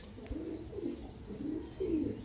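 Caged pigeons, including a hen sitting on eggs, coo in soft, repeated low rolling phrases, fairly faint and close, with a few thin chirps in the background and no speech.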